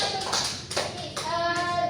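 Classroom clapping for a student in a French lesson, a short burst of several hands clapping close by, with a few sharp taps standing out and children's voices mixed in.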